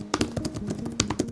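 Fingers type quickly on a tablet keyboard accessory, giving a close run of crisp, uneven key taps with no voice over them.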